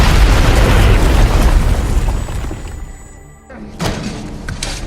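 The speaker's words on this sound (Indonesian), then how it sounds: "Tiba-tiba sebuah granat muncul tepat di belakang Sugar dan akhirnya meledak." A grenade blows up in an action film: a loud, dense blast with a long rumbling decay fades over about three seconds, followed by sharper bursts and debris-like crackle under faint background voices.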